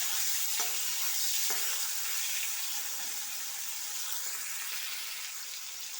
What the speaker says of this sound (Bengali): চিংড়ি মাছ হালকা করেই ভাজবো।